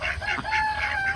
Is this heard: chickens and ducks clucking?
yes